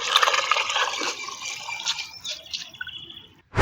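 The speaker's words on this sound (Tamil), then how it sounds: "இப்போ இதை ஒரு பக்கெட் தண்ணியில் கலந்துக்கிறேன்" Liquid fish fertilizer is mixed into a bucket of water, with close sloshing, trickling and dripping that fade toward the end before a sharp knock.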